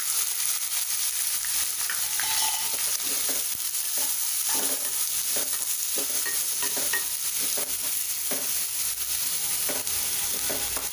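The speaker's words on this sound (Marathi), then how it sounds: "आता आपण कांदा घालून घेऊया." Onion fries in oil with cumin and curry leaves, making a constant sizzle, with repeated stirring scrapes of a spoon in the pan.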